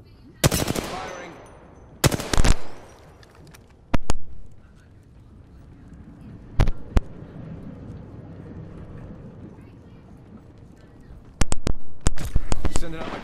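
Gunfire in the battle royale game Apex Legends: loud, sharp bursts of automatic fire in separate clusters, with quieter stretches of ambient noise between the volleys.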